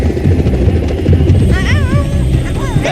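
An aircraft flies in a cartoon featuring bears, its steady whirring engine drone filling the whole stretch, with brief wavering squeals rising over it midway.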